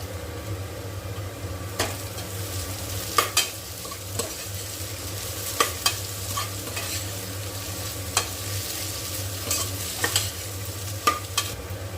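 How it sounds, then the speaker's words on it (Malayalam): Fennel seeds and onions frying in a pan for a country-style chicken gravy, a steady low sizzle punctuated by repeated sharp clicks and taps of a spoon stirring against the pan. "ഇനി 2 സ്പൂൺ പെരുംജീരകം ഇതോടൊപ്പം ചേർക്കാം. നന്നായി ഇളക്കി യോജിപ്പിക്കാം."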